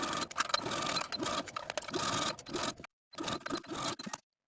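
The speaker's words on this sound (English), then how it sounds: "Now go to your sewing machine and sew the binding all around the armhole" Continuous mechanical whirring and rattling of a sewing machine stitching binding around a silk dress armhole, running in bursts, with brief pauses and a short silence before it resumes.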